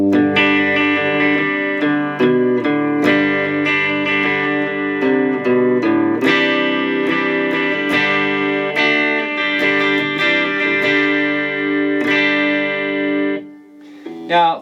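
Electric guitar played through a Fender Mustang Micro headphone amp on its 60s British amp model, with ringing chords and single notes that sustain clean and bright, loud and close, trailing off into a short pause near the end.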